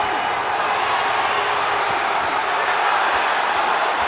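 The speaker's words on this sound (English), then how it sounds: "crowd responding" A boxing arena crowd during an Amir Khan versus Gairy St Clair bout, producing a steady, dense roar of murmuring and cheering without distinct peaks, continuous throughout.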